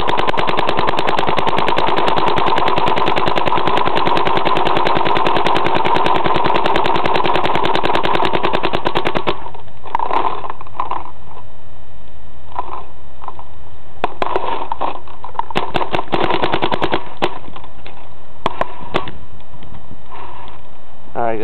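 An Etek 1 paintball marker with a Prophecy loader fires long, loud rapid-fire strings of shots up close, then breaks into shorter bursts and scattered single shots toward the end.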